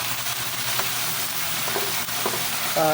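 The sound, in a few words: chicken being sautéed in a pan for adobo sa gata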